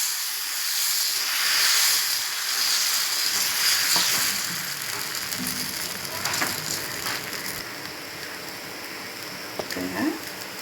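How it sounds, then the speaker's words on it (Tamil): Murungai keerai (drumstick leaf) dosa batter on a hot griddle gives a continuous soft hiss and sizzle. It fades gradually, with a few faint scrapes and clicks near the end. "நான் இப்போ தோசை ஊற்றிக்கலாம் வாங்க. கல் காய வச்சு ஒரு கரண்டி"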